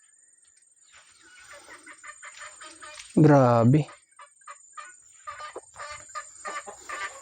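Chickens cluck and chatter in short bursts, broken by one loud, drawn-out rooster-like squawk near the middle; a person speaks briefly.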